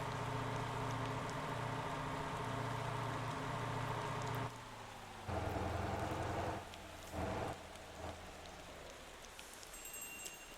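Rain falls steadily in the driving game Motor Town, a dense hiss laid over a low engine drone that drops away partway through, with a few brief bursts and surges toward the end.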